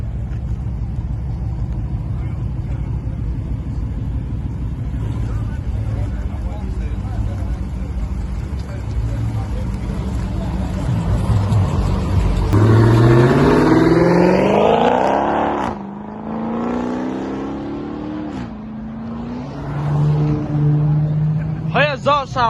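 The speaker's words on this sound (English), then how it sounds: "Her exhaust sound way different." Dodge Demon exhaust at a mansion car meet: a loud, steady low rumble that swells into rising revs midway, then drops and revs again near the end, with people talking over it.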